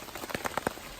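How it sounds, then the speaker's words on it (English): Rain pattering through the woods at Steel Creek Campground, a handful of distinct drops striking a surface over a soft steady hiss, close and fairly quiet. "It hasn't quit raining"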